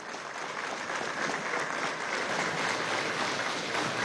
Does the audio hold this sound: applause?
yes